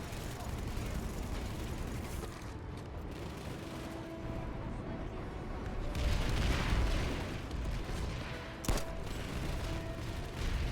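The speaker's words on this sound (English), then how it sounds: "So I turn to some NC shotgun shots to the left." NC shotgun blasts in the PlanetSide 2 video game ring out amid dense battlefield noise, with a burst of heavier firing midway and a sharp crack near the end, all over a constant din of distant gunfire.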